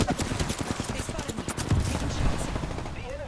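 Rapid automatic gunfire crackles in a video game match of Apex Legends, a dense fusillade of close shots running continuously throughout, with speech mixed in.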